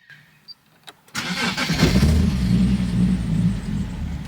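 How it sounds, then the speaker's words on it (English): A Nissan 370Z, about ten years old, cranks and fires up, its exhaust settling into a loud, deep, steady rumble close by after a few quiet clicks. "So we're gonna start her up. Ooh, that exhaust sounds so..."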